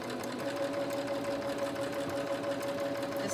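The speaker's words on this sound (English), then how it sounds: "No, the sewing machine is not. It's pretty quiet actually." A sewing machine runs continuously at a steady pace, its motor humming with a fine rapid stitching rattle, close by.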